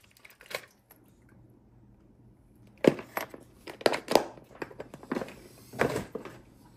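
Double-sided tape peeled off the ESC tray of an SCX24 Dodge Power Wagon RC crawler: one short crackle, a pause, then several sharp crinkling, tearing bursts close by.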